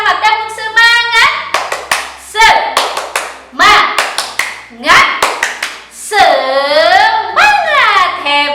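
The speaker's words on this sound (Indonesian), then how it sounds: "kita tepuk semangat dulu ya, sama-sama tepuk semangat" Young first-grade children chanting in unison while clapping a rhythmic cheer together in a classroom, loud close sharp claps in quick patterned bursts interleaved with sung voices.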